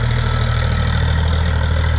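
A Chinese mini tractor used for clearing snow idles close by, its engine a loud, steady low rumble with an even, chugging pulse and no change in speed.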